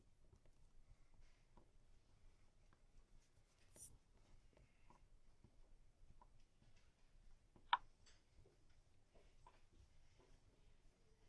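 Faint scratchy pencil strokes on paper while filling in a two-way table, soft and intermittent with short pauses and one sharp tap, close up in a quiet room.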